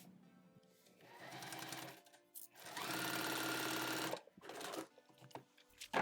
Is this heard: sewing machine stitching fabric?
yes